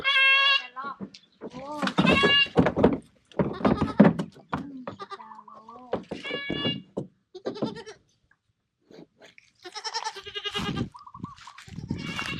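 Goats bleat loudly on a farm, several wavering cries one after another, up close and mixed with people talking among the herd.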